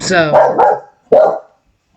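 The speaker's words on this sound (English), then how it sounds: "that was my dog that she recorded" A pet dog barks twice, close and loud, in a home setting: a long rising, yelping bark followed by a sharper second bark after a short pause, with a voice briefly speaking at the end.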